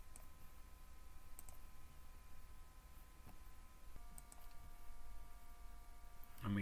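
A handful of faint, sparse mouse clicks, each short and crisp, sound in a quiet room with a low background hiss.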